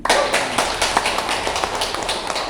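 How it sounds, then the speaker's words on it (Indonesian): A seated audience at a business presentation claps, sharp irregular hand strikes close together forming a brief patter that fades slightly after the first loud burst. "Tepuk tangan."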